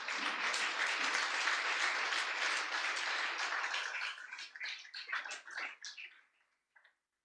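A church congregation claps and cheers loudly and steadily, then the applause thins into scattered claps and fades away near the end.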